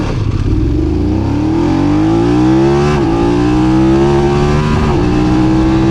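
A BMW F 900 GS Adventure motorcycle engine accelerates hard and steadily, its loud, close drone climbing in pitch through the gears with a brief shift dip midway, heard on its own without speech.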